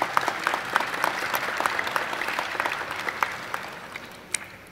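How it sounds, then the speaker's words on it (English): An audience at a welcome reception in the Andrew W. Mellon Auditorium applauds steadily for several seconds, dense clapping with sharp individual claps standing out, tapering slightly at the end. "give yourselves a round of applause"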